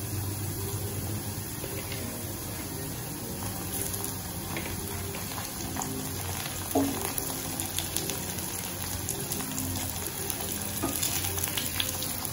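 Masala frying with tomato in a pan for spicy pasta, a steady soft sizzle with occasional stirring scrapes and light clinks throughout.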